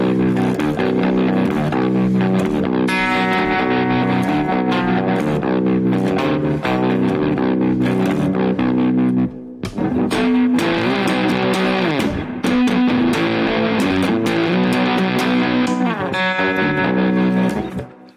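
Loud, heavily distorted electric guitar, through a distortion pedal built into the guitar, playing sustained chords and riffs with a thick, saturated tone, continuous apart from a brief dip midway.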